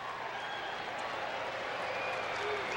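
A sellout crowd at the 1992 World Series game between the Atlanta Braves and Toronto Blue Jays in Toronto fills the stadium with a broad, steady roar and scattered clapping, heard from a distance.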